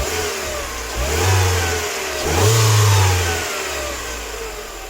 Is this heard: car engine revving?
yes